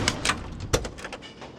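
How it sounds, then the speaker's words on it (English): Door of a 1969 Ford Mustang Mach 1 swinging open and shutting, a couple of close, soft mechanical clunks and latch clicks with one firmer thud near the middle, no talking. "Really smooth action on the doors"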